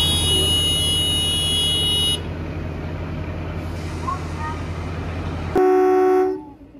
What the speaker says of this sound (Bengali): এই যে আমাদের শিবালিক এক্সপ্রেসে হর্ন পড়ে গেছে